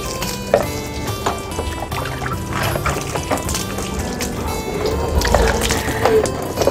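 Water pours and splashes steadily while rinsing a surface after cleaning with WD-40, a continuous wet rush with gurgling and sloshing throughout, fairly loud and close, with no talk.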